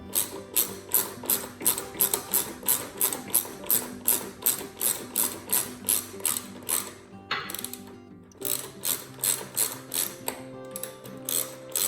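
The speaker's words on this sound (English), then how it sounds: "And I need to flip my wrench around." A ratchet wrench turning a bolt beneath a NordicTrack Commercial 2450 treadmill, close rhythmic clicking strokes in a steady run, a short pause, then more strokes.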